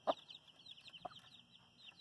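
Hen clucking, one of two similar-looking hens, with a sharp cluck at the start and another about a second later over a continuous high bird chatter in the background.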